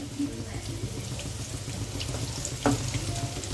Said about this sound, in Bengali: দুটো সাইড খুব ভালো করে ভেজে নিতে হবে